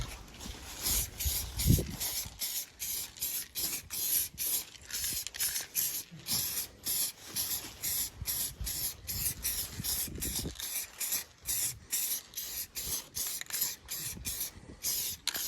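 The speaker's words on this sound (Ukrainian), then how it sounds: "Вистачило два коричневих балончика на, на весь повністю" Brown aerosol spray paint cans coating a camper trailer during restoration, heard as a long run of short, rhythmic hissing bursts with brief pauses between them, close and fairly quiet, with no talk.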